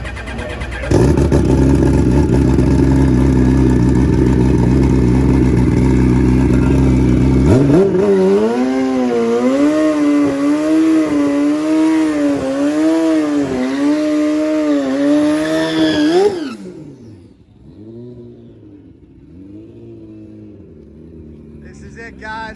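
A modified 700 HP Suzuki Hayabusa drag motorcycle roars loud and near, first holding a steady high drone, then revving in repeated rising and falling pulls before cutting off sharply. A voice is heard faintly near the end.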